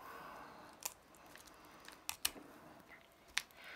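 Scissors snip through small cooked quail bones in a kitchen, giving a few sharp, quiet crisp cuts spaced apart against a near-silent background.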